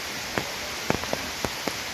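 Heavy rain falling on the trail at Karnala Fort, heard as a steady soft wash with scattered sharper drop taps close by, with no talking.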